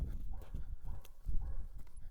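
Horse hooves clip-clop in a loose, uneven rhythm close by while the horse is led near a trailer, with a few soft, steady steps across the short stretch.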